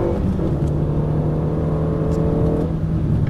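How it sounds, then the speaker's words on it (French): Race car on the Dreux circuit pulling hard in fourth gear, a steady loud engine drone with a strong low hum holding through the whole stretch, no voices over it. "et là on accélère progressivement"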